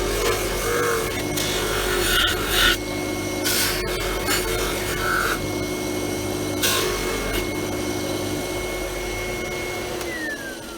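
A pewter vase is pressed against a spinning buffing mop loaded with polishing compound, producing a continuous motor whine with rubbing, rasping surges and brief scrapes, close and steady.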